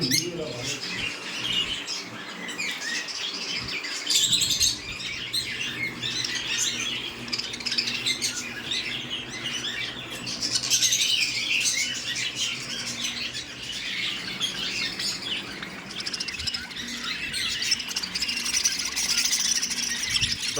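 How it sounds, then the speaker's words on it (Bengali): Many birds at a farm keeping a collection of foreign cage birds chirp, squawk and twitter in a dense, continuous chorus throughout, with occasional wing flutters and some people talking faintly in the background. "সেটাতে বেশ অনেক পাখি রয়েছে"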